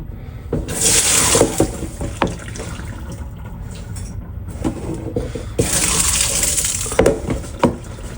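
Water being poured off soaking rice for biryani in a home kitchen, a steady splashing pour that swells loud twice with a quieter trickle between, no voices.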